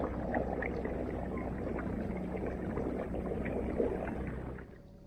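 A Hobie Revo kayak driven by a 24 lb electric motor moves along the upper Brisbane River, giving a steady wash of water and low motor hum that drops off sharply just before the end.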